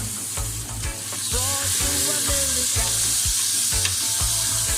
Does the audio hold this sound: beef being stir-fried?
yes